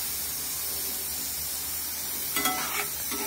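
Masala paste for a prawn fry sizzling in a pan, a continuous close hiss of frying with a few brief stirring scrapes near the end.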